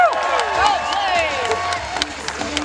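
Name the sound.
crowd applauding and cheering at a renaissance festival joust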